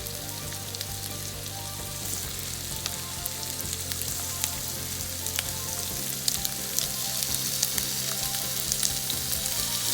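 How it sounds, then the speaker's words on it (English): Shrimp sizzling in a pan of hot oil, a dense steady frying crackle with scattered pops that runs the whole time and grows slightly busier partway through, with no voices over it. "the oil is ready. Just gonna add shrimp."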